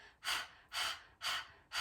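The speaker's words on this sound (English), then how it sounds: "stick out that tongue and start to pant lion's breath" Rhythmic panting breaths of lion's breath in a yoga goddess pose, tongue out, four strong breathy pulses in steady succession, close and alone without speech.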